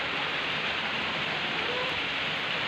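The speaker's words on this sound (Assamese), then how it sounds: "ইয়াতে বৰষুণ দি আছে" Rain falls steadily outdoors, a constant broad hiss of drops with no pauses and no one talking.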